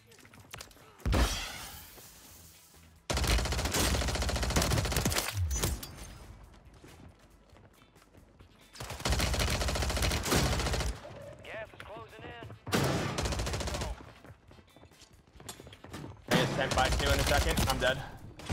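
Bursts of gunfire in Call of Duty: Warzone come in several separate loud clusters with quieter gaps between, some rapid and crackling, with a voice talking in the pauses.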